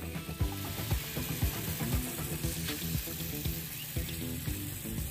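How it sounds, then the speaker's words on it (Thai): Roasted chili mixed with water is sprayed onto garden plants as a pest repellent, giving a steady hissing spray with soft, regular low thumps underneath throughout. "ฉีดพ่นไปที่ต้นพืชแบบนี้เลยครับ"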